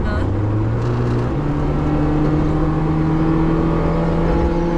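A Volkswagen Beetle fitted with a modern replacement engine revs hard at full throttle and steady, its pitch climbing in a step and then holding a loud, sustained drone close by.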